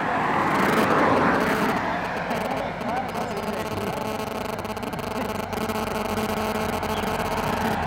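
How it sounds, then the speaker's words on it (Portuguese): Road traffic rushes past on a street, a continuous loud drone of cars and engines with one vehicle swelling close early on, while someone talks over it. "Os carros passam normalmente."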